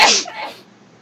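A single sharp, close sneeze bursts out at the start and fades quickly into quiet.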